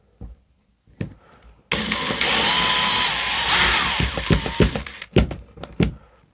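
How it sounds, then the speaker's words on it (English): Power drill boring into a wall while mounting a TV bracket, preceded by a few sharp knocks, then a loud sustained whine for a couple of seconds followed by more tapping and handling thuds. "I will drill it with caution."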